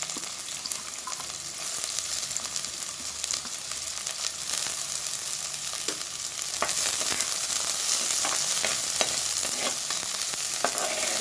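Chopped onions sizzle in hot oil with popped mustard seeds and green chillies, a steady broadband frying hiss with scattered crackles and occasional stirring scrapes, close and continuous throughout, with no voices.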